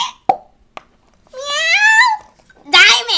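A child imitates a cat, voicing drawn-out meows with rising and falling pitch, preceded by a couple of sharp plops and clicks, near and fairly loud.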